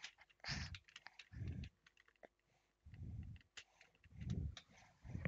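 Irregular clicking on a computer keyboard, mixed with soft rhythmic bursts of breathing or panting, all fairly quiet and close.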